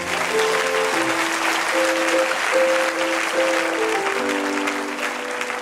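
A church congregation claps and cheers during a sermon, sustained dense applause filling the space while soft organ or keyboard chords sound underneath.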